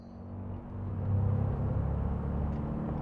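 Car engine in Cyberpunk 2077 while driving, a steady low rumbling drone that swells slightly after the first second and holds even and smooth, with no talking over it.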